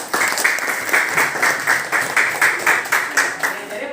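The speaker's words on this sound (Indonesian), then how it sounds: "tepuk tangan dulu" A classroom of students claps for a group's presentation, with rhythmic bursts of hand claps falling into a steady beat, moderately loud and close, with no talking over them.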